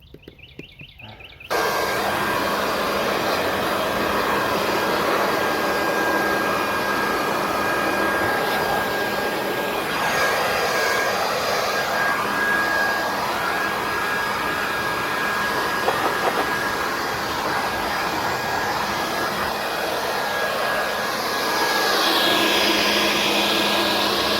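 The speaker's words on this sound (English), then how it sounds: "I grab a blower and I blow myself with it to try to see, to prevent from itching as much" A blower starts abruptly after a short lead-in and then roars steadily at close range, a loud continuous whooshing hum that shifts slightly as it is moved over a person to blow off fiberglass dust.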